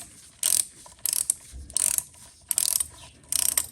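A torque wrench ratchets while tightening clutch bolts on a Yamaha XJ600 Diversion motorcycle, giving five short, close bursts of rapid clicking separated by brief pauses.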